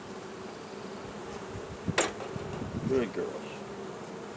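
Honeybees at a South Carolina hive buzz in a steady, close swarm drone, with a few sharp knocks from handling a frame on the bottom board. A person speaks briefly over them.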